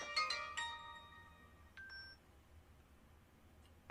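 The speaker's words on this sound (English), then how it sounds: "my phone start to ring" A phone ringtone plays a few bright melodic beeps at the start, then brief higher tones, fairly faint over a quiet room hum with no talk.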